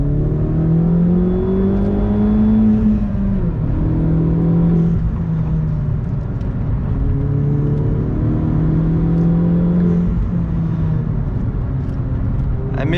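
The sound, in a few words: 2011 Opel Corsa GSI stage 1 car driving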